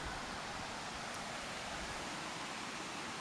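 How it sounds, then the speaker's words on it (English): A river flowing in Southern Africa makes a steady, broad rushing hiss with no breaks, close by and unchanging, with no voices over it. "we're still here by the river, which you can probably hear flowing there"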